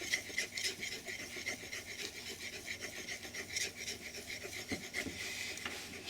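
A blade is rubbed back and forth on a 16,000 grit sharpening stone during a hand-tool woodworking project, giving a steady, close rhythmic rasping stroke after stroke.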